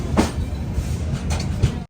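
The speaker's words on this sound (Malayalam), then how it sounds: "ജമ്മു താവി റെയിൽവേ സ്റ്റേഷന്റെ പ്ലാറ്റ്ഫോം നമ്പർ രണ്ടിലേക്കാണ് നമ്മുടെ ട്രെയിൻ വന്നത്" A train rumbles steadily at platform two of Jammu Tawi railway station, with a couple of sharp metallic squeals and clacks over the low rolling noise before it cuts off.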